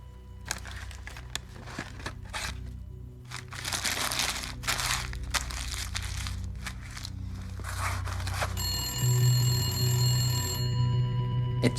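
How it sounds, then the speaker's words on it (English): Telephone ringing inside The Gallery, an FMV video game set in 1981, its electronic ring appearing late amid rustling, crinkling and footsteps, with a steady tonal hum underneath. "It's been ringing incessantly. Answer it."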